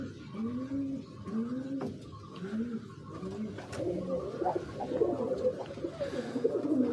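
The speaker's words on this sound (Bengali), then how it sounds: "দেখেন কত সুন্দর কবুতর।" Domestic pigeons in a home pigeon house coo repeatedly, a chorus of soft throaty rolling coos from several birds close by, overlapping in a loose rhythm with a few faint chirps behind.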